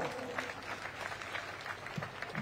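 Steady crowd applause at a public gathering, a dense wash of clapping at moderate level without pauses.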